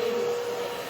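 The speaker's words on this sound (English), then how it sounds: "I put the blow dryer kind of towards the way her hair grows so it will stand more" A blow dryer drying a woman's pixie-cut hair runs with a steady, close, continuous whoosh and a constant hum, with no talking.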